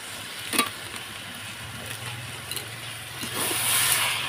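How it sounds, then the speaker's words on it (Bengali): Cabbage fries in a pan with a steady low sizzle, punctuated by a few sharp scraping stirs of a spoon against the metal, close up and with no talking. "বাঁধাকপিটা প্রায় আমার ভাজা ভাজা হয়ে আসছে আর কি"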